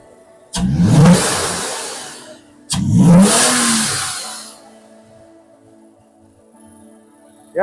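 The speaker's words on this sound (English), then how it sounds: "Give a little bit of gas." A Toyota Tacoma V6 with a new intake revs twice in quick, loud blips close by, each rising and falling back, before settling to a quiet idle.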